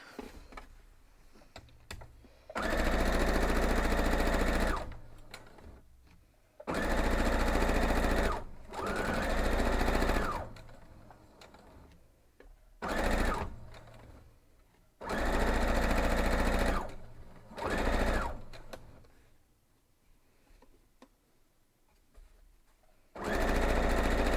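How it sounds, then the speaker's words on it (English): A sewing machine stitches a quilt block in several long, loud, steady runs of fast mechanical whirring, separated by quiet pauses and a few short bursts, with no talking. "I think we're going to go sew this first"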